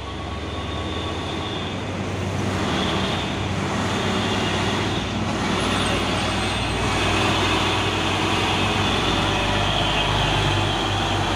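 A Hino tanker truck hauling crude palm oil overtakes from behind in heavy rain, its steady loud engine and tyre rumble filling the whole stretch without a break.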